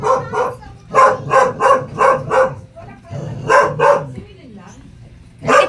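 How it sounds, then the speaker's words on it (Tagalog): A dog barks in a quick, loud, close series of about eight sharp barks with brief pauses, then several more, while voices talk in between. "Bakit may aso?"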